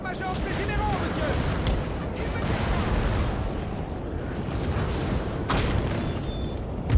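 Artillery cannons fire during a Napoleonic-era battle in a Total War video game. Heavy booms and rumbling blasts come repeatedly over a dense battlefield din, loud and close, while voices call out amid the gunfire.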